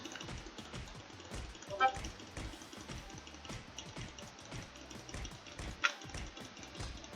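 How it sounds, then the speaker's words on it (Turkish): Fast computer mouse clicking, a rapid and fairly even stream of light taps, close and quiet, going on without pause. "Ben mouse'a hızlı basıyorum ama o kadar hızlı öldürmüyor işte."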